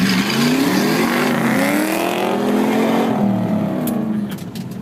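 A 2001 Ford Mustang Bullitt launches hard with its tires spinning and smoking, the engine roaring loudly and climbing in pitch over several seconds before it tapers off.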